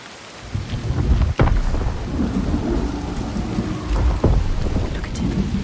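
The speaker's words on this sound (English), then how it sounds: "The constant storm." Thunderstorm with heavy rain from the video game Hellblade 2; steady loud rainfall with two sharp thunder cracks followed by deep rumbling, and no voices.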